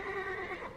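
A horse in the Cyberpunk 2077 video game lets out a short, clear whinny that wavers and then drops in pitch, heard alone and lasting under a second.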